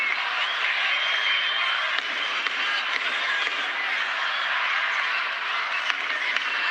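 A Georgian crowd of supporters cheers and shouts continuously at a judo match, a dense steady roar of many voices at even loudness throughout.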